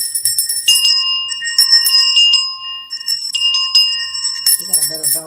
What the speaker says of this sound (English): Ring the bell for the children.